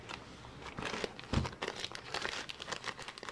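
A plastic zip bag holding rubber stamps crinkles and rustles in short, close bursts as it is handled, quiet and alone without talking.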